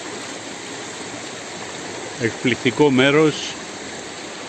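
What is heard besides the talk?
flowing water at Ano Kefalari springs, Drama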